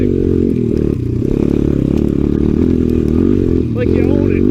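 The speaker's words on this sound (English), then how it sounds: "Dirt bikes are gonna rip in the snow like this thing." A Honda XR 100 dirt bike rides through snow, its engine loud and close in a continuous buzzing drone with brief dips as the revs change, while a person talks over it.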